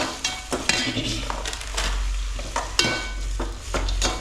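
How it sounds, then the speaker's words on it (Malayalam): Onions sauté with salt in a pan, crackling and sizzling close by while a utensil scrapes and clinks against the metal in irregular stirring strokes. "സവാള ഇട്ട് വയറ്റാം."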